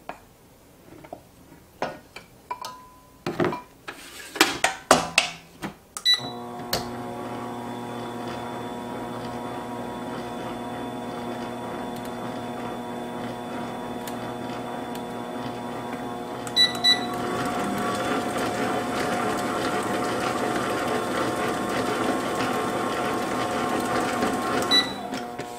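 An electric mixer whirs steadily through white cupcake batter, a continuous motor drone with a tonal hum, preceded by clattering bowl and utensil knocks and growing slightly louder later on.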